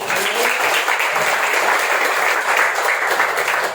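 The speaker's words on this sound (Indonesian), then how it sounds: "Kita berikan tepuk tangan" Steady applause from a church congregation during an Indonesian worship service, a dense even wash of many hands clapping together, close and loud, running throughout without voices.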